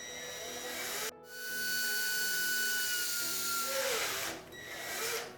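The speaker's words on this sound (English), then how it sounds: "I'm going to drill a hole about right there." A small power drill with an 1/8 inch bit boring a hole in a part for a WPL C24 Hilux RC truck, a steady close whine that pauses briefly, then resumes with a short dip near the end.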